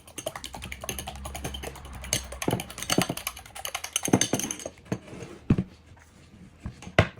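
Eggs whisked in a bowl, a quick clattering run of utensil taps close by, slowing into a few separate knocks near the end, no voices.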